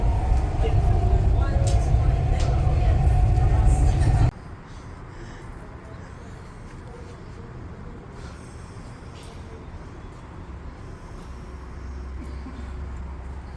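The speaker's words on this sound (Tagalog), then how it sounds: "Train, Dubai train." A Dubai Metro train runs through an interchange station between the Red Line and Route 2020, a steady loud rumble that abruptly drops to a quieter, continuous interior hum with faint background voices.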